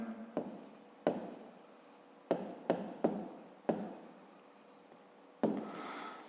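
A pen writes out a math solution on paper in close, quiet bursts of scratching strokes separated by short pauses, with no one speaking.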